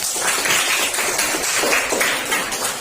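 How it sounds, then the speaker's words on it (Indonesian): Students clap together in a classroom at a vocational school after the last group presents its work. The clapping is steady and fairly loud, with a rough, crackling texture that runs for the whole stretch and almost no talking. "Tepuk tangan buat kita semua."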